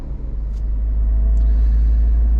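A Maruti Jimny cruising in 5th gear in normal 4x2 mode at about 2000 RPM and 66 km/h, with a steady low engine and road rumble and a few faint creaks over it.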